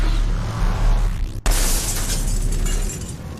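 An explosion goes off in the video game Mass Effect 3. A sudden loud burst cuts through the game's rumbling background and is followed by a crackling, debris-filled wash that fades slowly.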